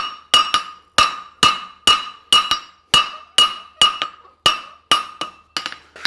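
A hammer strikes a Mustad specialty forging horseshoe, a hind preventer, on an anvil, ringing out about a dozen sharp metallic blows in a steady, even rhythm, each clang decaying before the next.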